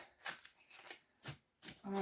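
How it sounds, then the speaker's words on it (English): Angel therapy oracle cards shuffled by hand in a quiet room, giving several short papery riffling bursts with brief pauses between them, close and fairly soft. "while I'm shuffling"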